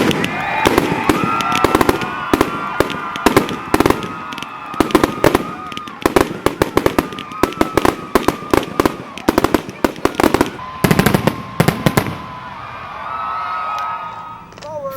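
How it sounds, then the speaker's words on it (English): Fireworks by Telstar closing a Memorial Day celebration in Waterloo, New York, in 2000: a long, dense run of loud bangs and crackling bursts, rapid and irregular, with a crowd faintly audible beneath before the barrage fades. "The evening ended with fireworks by Telstar, signifying the end of the celebration."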